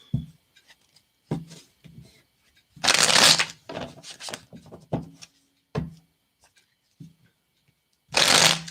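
Tarot cards being shuffled up close in repeated riffling bursts, with softer handling taps and slides between them.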